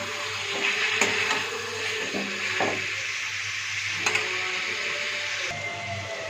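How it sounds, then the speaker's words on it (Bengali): Fried cauliflower is stirred into a katla fish curry with potatoes in a pan. Several scraping spoon strokes and soft knocks sit over a low, steady frying hiss. "দিয়ে দিলাম ভেজে রাখা ফুলকপিগুলো, দিয়ে আবারও একটু নাড়িয়ে চাড়িয়ে"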